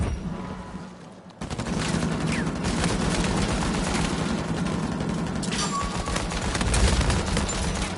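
Sustained gunfire in an Uncharted game firefight, a continuous rattling barrage of shots that stays loud and close throughout, with no pause after it begins.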